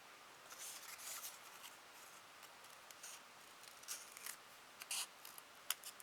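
Scissors snip and round the corners of clear plastic sleeves, a quiet series of short, crisp cuts coming in irregular clusters, close and isolated.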